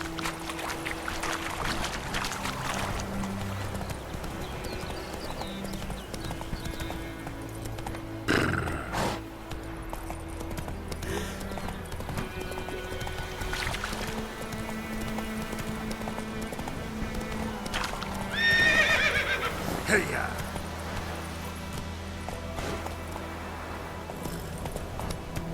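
Hooves clip-clop steadily as a horse moves along in Witcher 3, with a brief whinny and some background game sounds and music, moderately quiet throughout.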